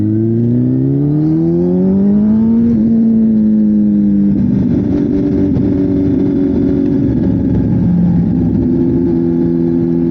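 A loud motorcycle engine accelerates close by, its pitch climbing then settling into a steady rumbling drone while moving through stop-and-go traffic.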